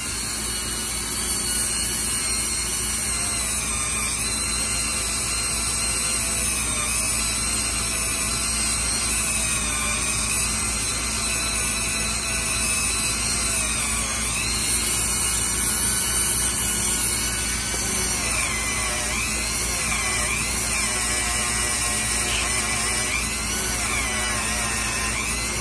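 A small high-pitched power tool grinds surface rust off the spring of a USA-made Queen pocket knife, its close, steady whine running continuously throughout with slight shifts in pitch as it works along the metal.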